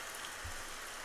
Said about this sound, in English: Oh, and there's the rain.